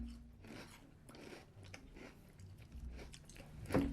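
Crunchy Monster Cereal being chewed up close, a steady run of crisp, grinding bites with short rasping crunches and a louder crunch near the end, no talking.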